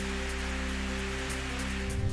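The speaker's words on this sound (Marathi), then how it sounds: "वाशिम जिल्ह्यातील वाईवारा परिसरात अवकाळी पावसाची हजेरी" Unseasonal rain in the Waiwara area of Washim district pours steadily onto surfaces, a dense even hiss with a constant low hum beneath it and no voices.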